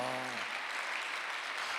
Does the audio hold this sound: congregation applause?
yes